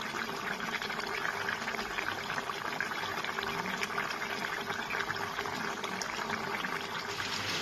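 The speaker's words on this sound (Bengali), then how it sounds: "কুমড়োটা একটু আরেকটু সিদ্ধ হবে জলটা কমে যাবে একটু মাখা মাখা হবে" Pumpkin simmers in a pot of water for a fish-head pumpkin dish, giving a soft continuous bubbling and burbling texture that stays steady and moderately quiet throughout, without speech.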